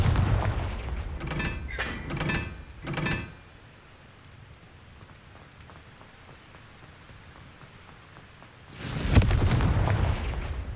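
In the Hogwarts Legacy video game, the Confringo blasting spell makes bursts of crackling, debris-like impacts early on, then a quiet lull, then a loud, sustained rumbling explosion near the end.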